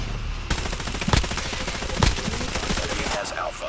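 Rapid automatic gunfire from CX-9 and ASM10 guns in a multiplayer shooter video game rattles in dense, fast bursts, with a few sharper heavy cracks standing out over a constant busy game din.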